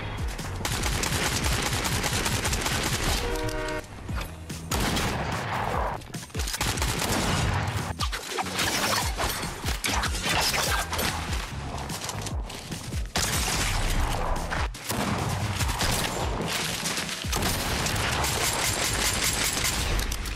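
Dense, nearly continuous gunfire in the Fortnite battle royale video game: rapid overlapping shots and bursts that stay loud almost throughout, with brief dips and no speech.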